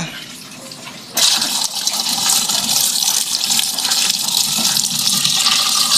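Running water used for washing at a farm where seedlings are being grown, starting suddenly as a loud steady gushing rush that continues to the end after a quieter opening.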